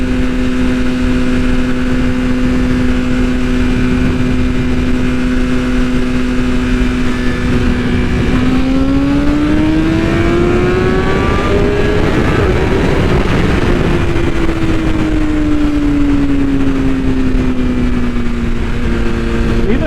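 A BMW M1000RR sportbike pulls hard from a roll in third gear, a loud continuous engine howl rising steadily in pitch, then easing back down, with heavy wind roar throughout.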